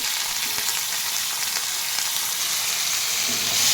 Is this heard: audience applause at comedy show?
no